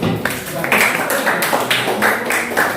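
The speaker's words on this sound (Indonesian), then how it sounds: "silakan duduk, tepuk tangan buat Faris" Students in a classroom clap for Faris as he takes his seat, a rhythmic run of claps in even bursts, close and moderately loud, with some talking mixed in.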